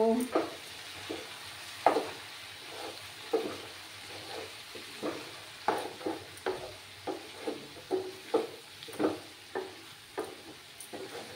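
Kashmiri chili powder being stirred into a Bengali-style mutton masala, a spoon scraping the pan in steady repeated strokes over a soft sizzle, close by with no talk.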